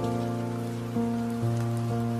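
Rain falling steadily on a surface, a soft continuous patter with scattered drops, heard alone and fairly close, beneath a low sustained musical drone.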